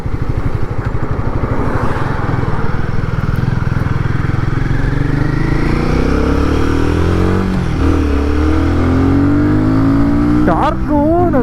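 A Royal Enfield motorcycle engine runs loud and close while riding, with a thumping low drone that rises and falls through gear changes and revs, and a brief sharper sound near the end.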